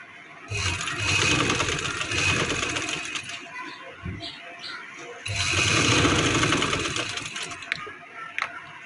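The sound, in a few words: sewing machine stitching a zip onto a suit neck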